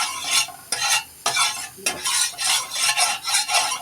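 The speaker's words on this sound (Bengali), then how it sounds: "কড়াই তাওয়া বসাই দিছি এটা গরম হয়ে আসছে একটু তেল দিয়ে দিলাম" Hot oil sizzles in a kadai on the stove before batter goes in for crispy egg chitoi pitha, a close, bright hiss broken by repeated scraping stirs.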